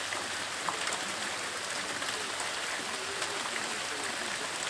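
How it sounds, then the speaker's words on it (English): Rain falls steadily at night in warm weather, a soft, even hiss of drops on surfaces that continues throughout, with a brief louder bump at the very end. "Christmas is almost over and it's raining."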